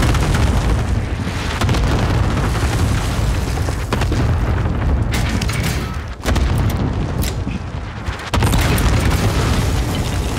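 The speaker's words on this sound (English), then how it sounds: "Airstrike, get fire on my target. Got your request. Cluster strike is active." Cluster airstrike in Call of Duty Modern Warfare, a dense rolling barrage of booming explosions that thunders continuously for about ten seconds, with a few sharper blasts standing out near the end.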